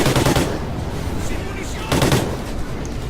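Gunfire from the video game Call of Duty: Ghosts, loud rapid automatic bursts at the start and again around the two-second mark, with constant battle noise in between.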